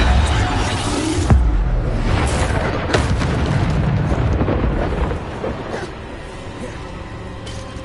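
Booming explosive blasts from the Bombarda spell in Hogwarts Legacy on hard difficulty, a sharp loud impact early on followed by further heavy rumbling bursts over dense, continuous game noise.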